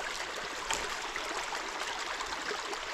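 Creek water flowing where two creeks meet, a steady, close, broadband rushing and trickling that continues without a break and with no voices.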